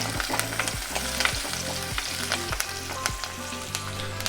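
Three minced chilies splutter in hot oil while prawns with cluster beans are cooked, giving a steady, close sizzle broken by sharp popping crackles all the way through.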